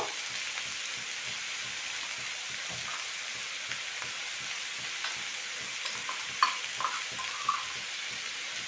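Onions or vegetables frying in hot oil with salt and turmeric powder stirred in, a steady soft sizzle with rhythmic scraping strokes of a spatula, a few louder clinks near the end.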